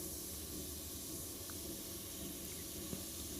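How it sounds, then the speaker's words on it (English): Compressed air from a compressor drives an airbrush spraying paint, a steady, close, unbroken hiss that holds level throughout with no talk. "I'm running out of air with the compressor"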